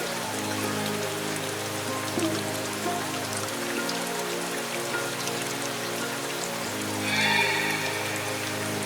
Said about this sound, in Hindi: अरे ये बारिश कहाँ से एकदम से आ गई?